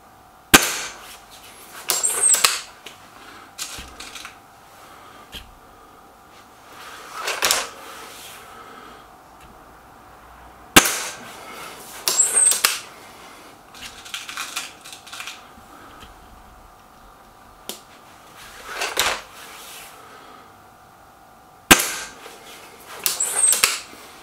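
Air rifle shots, from a Kral Devil or Gamo Whisper Sting, ring out as sharp, close cracks spaced across the stretch, with softer clicks and handling noises between them and no talking.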